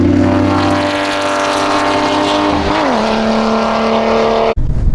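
Race cars at Ozark International road racing scream past loudly, sustained high engine tones dropping in pitch as one passes close by, then cutting off abruptly.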